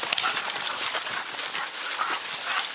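A police K9 dog during a canine chase and narcotics bust, giving short whimpering yips and barks over a dense, noisy background with steady broadband hiss.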